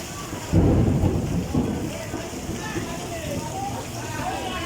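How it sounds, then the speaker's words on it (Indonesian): Steady rain falls throughout, with a loud low rumble of thunder rolling in near the start and fading over a few seconds. "Ini lagi kondisinya hujan"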